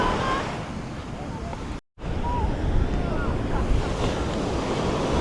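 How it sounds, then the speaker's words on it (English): Ocean waves crash and surge against the rocks at Tamarama beach in Sydney, a loud, continuous roar of surf with heavy wind buffeting the microphone and a brief dropout partway through. "let's check out the rocky part of the water where the waves are just like mad"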